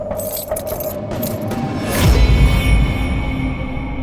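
A bunch of keys jangles close by as it is handed over, a few seconds of metallic rattling over low background rumble, with nobody speaking.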